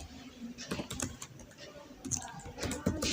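Keys clatter on a computer keyboard as C code is typed, irregular soft clicks in short bursts, close and fairly quiet against faint room noise.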